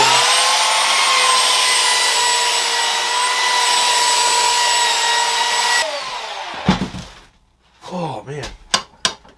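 Steel sword blade being sanded by a power tool, a loud steady whining grind for about six seconds that then stops, leaving scattered clanks, scraping and handling noises.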